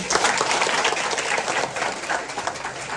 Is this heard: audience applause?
yes